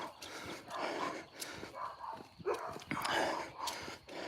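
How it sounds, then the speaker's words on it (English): Neighbor's dogs barking outdoors during a walk, a series of rough, breathy barks and snorts at moderate distance, repeated irregularly for several seconds with wind and ambient noise. "Ruff, ruff, ruff. It's dumb dogs, dude. Dogs barking."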